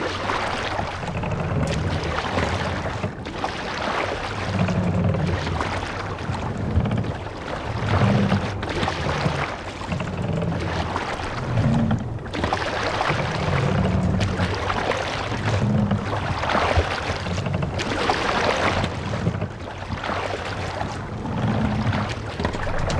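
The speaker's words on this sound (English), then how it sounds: "We must row in these waters." Rowing a boat in a video game: steady rhythmic oar strokes splashing through water, repeating every second or so over a constant wash of wind and waves, with no talk.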